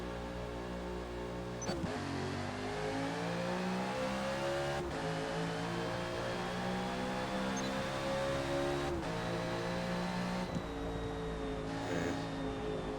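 NASCAR race car engines at Eaglerock Speedway in Forza Motorsport, revving hard at the race start and climbing steadily in pitch, loud and close, broken by a few sharp gear-change dips.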